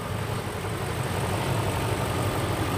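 A 2004 Range Rover Vogue 4.4 V8 idles smoothly, a steady even engine hum with no roughness or changes in pitch, close and fairly loud, with no talk.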